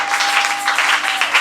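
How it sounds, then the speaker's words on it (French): A church congregation applauds, dense continuous clapping that stays loud and close for the short stretch with no talk over it. "Pour nous, applaudissons encore les Seigneurs."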